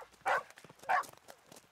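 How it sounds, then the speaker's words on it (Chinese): A dog barks twice, a distinct pair of woofs about half a second apart, moderately faint against a quiet background, in a children's animated story. "可是远处突然传来了汪汪的狗叫声。"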